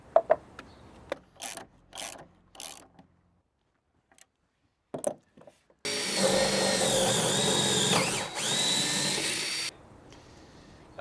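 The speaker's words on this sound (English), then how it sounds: "When you're drilling a hole using a coach screw, you actually want to choose a drill bit" A power drill whirs steadily for several seconds, drilling a pilot hole for a coach screw to mount a shade sail on a house, close and loud, after a handful of short clicks and knocks with a brief pause.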